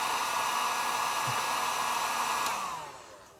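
Heat gun on low heat softening a plastic accessory, a steady close blowing whir with an even tone that keeps going for about two and a half seconds and then winds down, with no one speaking.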